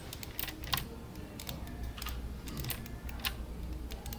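Computer keyboard keys tapped for shortcuts while modeling in 3ds Max, a quiet scattering of crisp clicks and short double taps at close range, irregular and alone with no talk.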